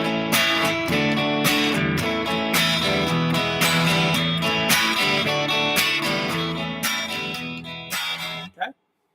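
Electric guitar strummed in a steady groove with accented backbeat hits on beats 2 and 4 and lighter strokes between, continuous and fairly loud, ending with a final strum that rings out and is cut off.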